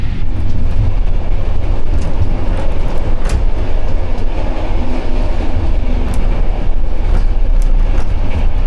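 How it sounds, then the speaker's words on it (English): Old-style train rolling along rails, a steady loud rumble and rattle with scattered metallic clicks and squeaks, heard from inside the carriage throughout. "typical old time train"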